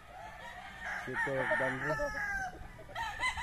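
Gamefowl roosters crow loudly at a gamefarm, one drawn-out cock-a-doodle-doo rising over the background while someone speaks briefly nearby.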